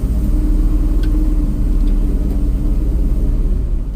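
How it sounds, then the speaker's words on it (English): Power steering pump on an idling Ford F350 dump truck, a continuous low rumbling drone with a faint whine above it, close and steady with no talk. "Oh, that's power steering pump."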